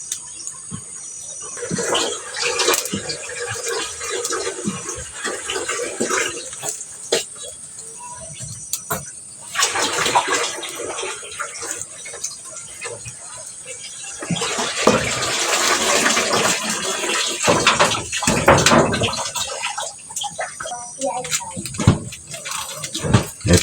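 Water poured and splashed into a container for an outdoor bath in a rural home garden, a long stretch of uneven gushing and sloshing with brief pauses, nearby and fairly loud, with faint crickets or birds in the background and no clear talk.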